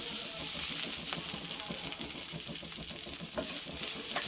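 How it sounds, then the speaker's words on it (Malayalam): Leftover boti (tripe) reheats in a hot pan, giving a steady sizzle and hiss with repeated scraping stirs of a spoon against the pan, close and continuous. "ചൂടാക്കി മുരിച്ചുകൊണ്ടിരിക്കുന്നു."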